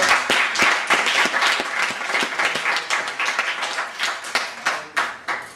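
A small community audience claps for a poet, individual hand claps standing out in a loose, uneven patter that thins toward the end into sparser, distinct claps.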